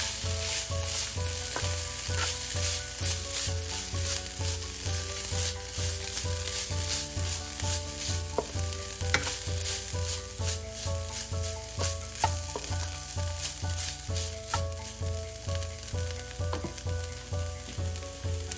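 Ingredients for chicken soup, seasoned with black pepper powder, sizzle steadily in a pan while a spoon stirs them in repeated strokes. The frying is close and continuous beneath background music.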